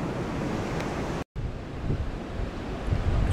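Strong gusts of wind buffeting an apiary on a cold March day, a continuous low roar with breathy swells that briefly cuts out before rushing back in.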